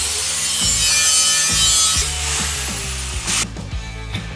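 An angle grinder strips rust and old paint off a steel shovel ahead of welding, a loud continuous abrasive whine and rasp with a few bumps and shifts in pressure, alone and close.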